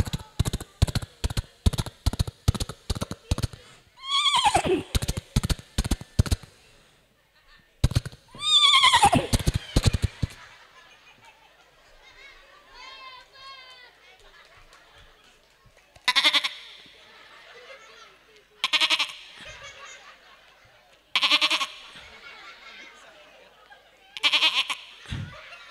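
A human voice imitates a goat kid bleating, giving repeated wavering, nasal bleats in short bursts with pauses between, loud and close, alongside other animal-like vocal imitations.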